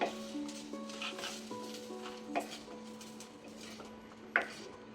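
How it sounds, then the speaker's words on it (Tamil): Okra sautéing in a pan for a tamarind curry with brinjal and turkey berries, giving soft stirring and frying sounds with a few sharp utensil clinks, plus a steady tonal hum in the background. "வெண்டைக்காய் வந்து இந்தளவு வதங்கினா போதும் எடுத்துடலாம் இது எப்படின்னாலும் ஒரு ஃபைவ் மினிட்ஸ் அப்படி வதக்கணும்"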